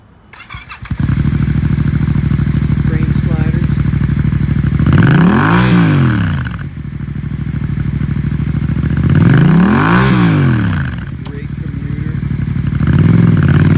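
A used 2016 Yamaha FZ-07 middleweight sport motorcycle starts up and idles loudly close by, with two strong rising-and-falling revs of the engine.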